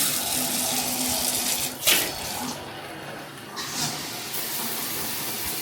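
A bathroom tap runs steadily into a basin, close and constant, with a brief splash or change in flow partway through.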